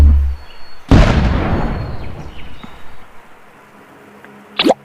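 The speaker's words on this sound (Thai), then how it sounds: "ขึ้นปืนใหญ่ไปเลยครับ" A cannon fires in the Roblox game Pet Simulator X: one sharp, loud boom followed by a long decaying rumble, with a brief second burst near the end.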